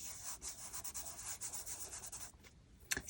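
Pastel rubbed into paper gives soft, rhythmic close-up scratchy strokes that pause near the end before a final sharper rub, quiet and with no talking.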